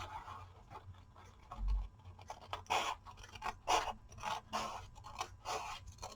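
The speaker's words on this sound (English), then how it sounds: "So I use small scissors this size, and then the cuticle scissors for small stuff." Small scissors snipping paper in a papercraft journal session, a quiet run of irregular crisp cuts and scrapes close up, with faint handling noise between them.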